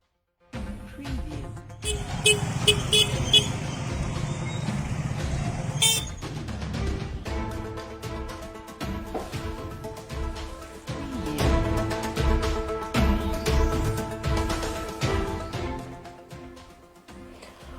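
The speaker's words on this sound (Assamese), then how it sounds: "খৈৰাবাৰীত বিপিএফৰ বিশাল বাইক ৰেলী" A large political bike rally passing in a town street, a crowd of motorcycle engines and repeated horn blasts building in a loud, continuous stream with overlapping honks.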